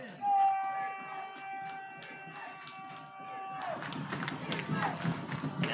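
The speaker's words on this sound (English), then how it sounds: "And you can hear the crowd noise from this home side" Home-side crowd at a high school football game between the Mason Comets and the Lakota West Firebirds, a steady roar of cheering and shouting that swells in the second half, with tonal whistles or horns and a voice earlier on.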